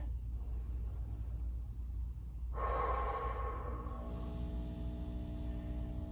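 One slow, deep breath is drawn in and let out close to the mic during a chest trigger point release on the pec major, soft and airy over a low steady room hum.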